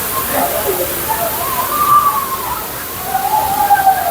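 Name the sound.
Thirparappu waterfall water flowing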